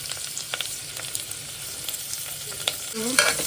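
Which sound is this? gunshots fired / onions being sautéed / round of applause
onions being sautéed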